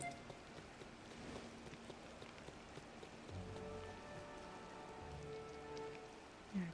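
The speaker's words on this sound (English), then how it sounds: "Yeah, I really should take advantage of this in-game rain." Rain falling in the DDLV video game, a faint steady hiss of drops pattering on surfaces with soft scattered game tones in the background, no talk.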